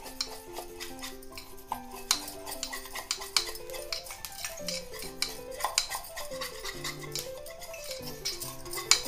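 Besan paste for kadhi is worked and mixed in a bowl, with a string of soft clinks and scraping stir sounds repeating unevenly over a quiet melodic tune in the background.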